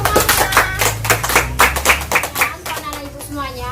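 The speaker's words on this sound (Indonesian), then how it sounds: "Tepuk tangan untuk kita semuanya." A class of children claps in a burst of quick, uneven hand claps, close and loud, with young voices chattering over the clapping as it fades.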